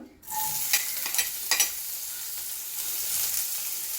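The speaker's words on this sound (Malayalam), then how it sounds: "ഇനി നമുക്ക് ഈ സവാള ഇട്ട് കൊടുക്കാം" Sliced onions drop into hot oil in a pan and sizzle loudly, with a steady broadband hiss broken by a few sharp clatters as they are stirred; no talking.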